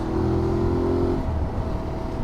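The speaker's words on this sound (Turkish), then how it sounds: "Harley aldım, kaptırdık gidiyoruz." A Harley-Davidson motorcycle riding on a busy road, its loud steady engine drone and wind rush continuous and close throughout, with a brief held tone fading out partway through.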